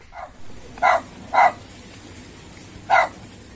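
A German shepherd gives three sharp, loud barks with pauses between them, close by, over a soft background hiss.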